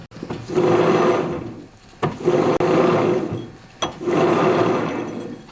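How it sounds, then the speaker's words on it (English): A rag rubs against a snowblower's friction wheel while the wheels are turned by hand, giving three long, loud, close grinding whirs separated by short pauses and sharp knocks. "Rub the rag on the friction wheel and turn the wheels."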